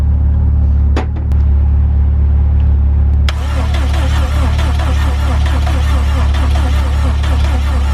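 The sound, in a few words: Subaru WRX engine cranking but not starting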